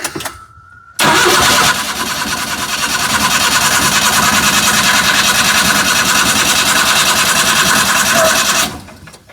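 Suzuki Carry DD51T engine cranking over for a compression test, a loud, steady, rapid chugging starter whir lasting several seconds without firing, close up after a brief tone at the start.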